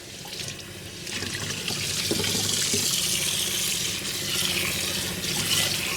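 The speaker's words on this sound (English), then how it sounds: "my pottery sink, and I have running water, and here is my bowl" Water runs steadily from a pottery sink tap over a bisque-fired bowl, a close, continuous splashing stream that shifts slightly as the bowl moves under it.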